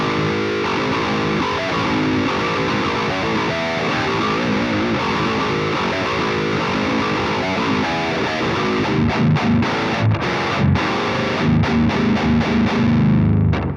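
High-gain distorted electric guitar tone through a Joyo effects unit, played as a dense, continuous riff at steady loudness, with choppy palm-muted stops toward the end and no voice.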